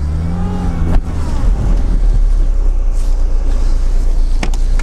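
An off-road car engine revs and strains steadily at high load, loud and close, with a low rumbling drone and a couple of sharp clanks.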